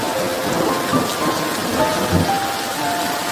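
Steady rain patters on a hut roof, with water dripping inside through holes, a dense continuous hiss with soft irregular drop ticks throughout, close and fairly loud with no voices.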